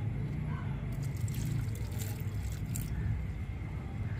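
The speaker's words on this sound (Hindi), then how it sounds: "अभी अब हम ये हींग वाला पानी इसके अंदर ऐड करेंगे।" Asafoetida (hing) water poured into a bowl of dough for crispy sev namkeen, a soft steady liquid trickle and faint squishing heard close up, continuous throughout with a low background hum.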